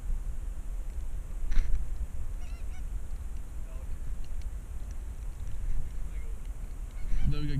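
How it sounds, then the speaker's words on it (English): Geese honking during a goose hunt in a private field in Wisconsin, the calls scattered and mostly distant under steady wind noise, with a louder burst near the end and people talking quietly. "Now we got geese right here to the left."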